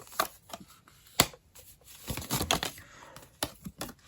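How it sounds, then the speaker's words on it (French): Tarot cards being drawn and handled up close, with crisp, irregular taps, flicks and snaps in quick clusters separated by short pauses. "Allez, je prends encore quelques cartes."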